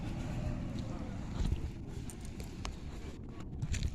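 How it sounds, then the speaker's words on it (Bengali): A trawler boat pulling away on the Ganges river, heard as a low rumbling engine drone under steady wind noise and outdoor ambience, moderately distant, with faint background sounds. "দেখো এই যে ট্রলারটা ছেড়ে দিল"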